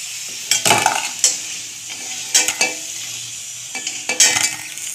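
Fried potatoes lifted out of sizzling oil into a bowl, a constant bright sizzle broken by several sharp scrapes and clinks of a spatula against the pan, close by and without talk.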